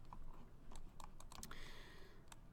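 Computer keyboard keys clack in an irregular run of separate taps, some bunched quickly together, fairly close over a low steady background hum.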